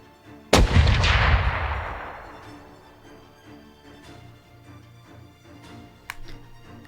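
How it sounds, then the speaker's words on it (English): A single cannon shot in a Unity VR game booms loudly and decays over about two seconds, leaving a quiet low hum with a few faint ticks and a small later knock. "Blast cannon 2."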